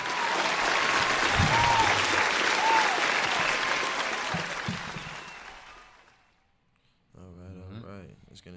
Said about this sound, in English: Let's get some claps.